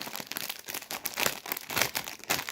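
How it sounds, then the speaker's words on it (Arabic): A crinkly foil snack bag of tomato-flavoured chips is torn open up close, with bursts of crackling and crinkling coming in several irregular waves throughout. "هنفتح سادس كيس ونقول بسم الله الرحمن الرحيم"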